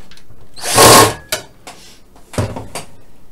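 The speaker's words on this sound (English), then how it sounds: "It's a bit overkill, this big drill, but it's alright." A large power drill whirs in one loud, close burst, then gives a few shorter, quieter spurts as it drives screws into a computer case during a PC build.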